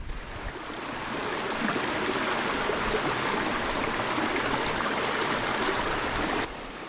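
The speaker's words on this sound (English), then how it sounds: "We're now by the river, collecting some water." A river on Dartmoor flowing steadily over open moorland at a wild campsite, its loud, continuous rushing and babbling water close by and unbroken until it cuts off abruptly near the end.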